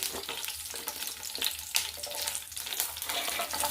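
Green chillies sizzle and crackle in hot tempering oil for a quick tomato chutney, a constant close-up frying hiss with small pops and stirring, no voices.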